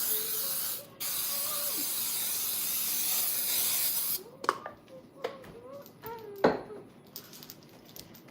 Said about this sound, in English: A little bit of spray on the pan.